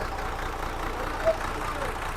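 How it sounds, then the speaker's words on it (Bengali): A boat's engine runs in the engine room, a steady low droning hum that is close and constant throughout. "এই দেখো এই যে ইঞ্জিন রুম, এইখানে ইঞ্জিনটা চলে"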